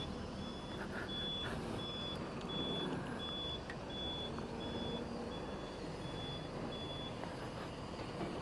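A reversing truck in a store parking area gives about a dozen evenly spaced beeps over a steady outdoor rumble of engines and traffic, moderately distant.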